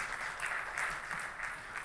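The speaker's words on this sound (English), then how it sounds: "The MC deserves a great round of applause." Audience round of applause for the MC at a live magic show at a tech conference, brief steady clapping with slight pulsing, moderately quiet and without speech over it.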